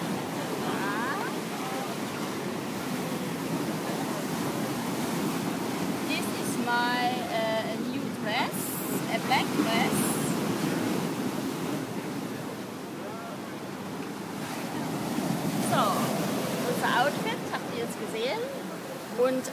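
Sea waves at the waterfront in Punda: a continuous broad rushing surf with gusts of wind noise on the microphone, rising and falling over about twenty seconds, with faint voices in the background.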